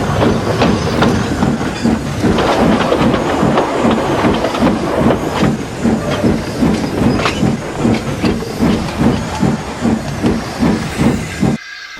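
Steam train running as an audio drama effect, a continuous loud hiss mixed with rhythmic chuffing and rail clatter, close and steady throughout before cutting off abruptly at the end.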